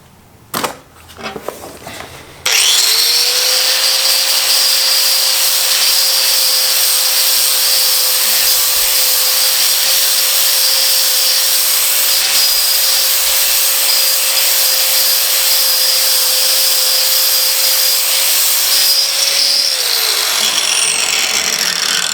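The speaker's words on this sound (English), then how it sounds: "It's coming along with the angle grinder." An angle grinder smooths the cooking surface of a Bayou Classic 28-inch griddle, starting after a few clattering seconds and then whining loud and steady at a constant pitch for most of the time before spinning down.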